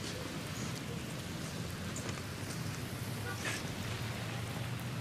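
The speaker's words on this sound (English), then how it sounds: "It's raining" Steady rain falls outdoors in an even, hissing wash that holds constant throughout, with a few faint voices and movements faintly audible beneath it.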